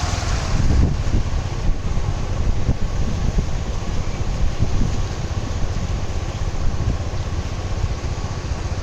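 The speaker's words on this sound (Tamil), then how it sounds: "பாருங்கள் எவ்வளோ தண்ணி வருதுன்னு பாருங்கள்" Water overflowing in Kanniyakumari rushes in a loud, steady broadband roar with no breaks, as if heard close from a passing bike, with wind noise buffeting the microphone.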